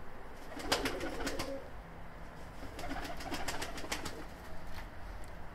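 A young golden Miro pigeon coos in soft repeated bursts, fairly close, with a few rustling sounds among quieter pauses and no talking.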